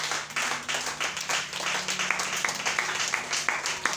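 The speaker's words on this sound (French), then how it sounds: "On acclame ici." Applause from a church congregation, a moderate room-filling patter of many hands clapping in uneven rhythm throughout.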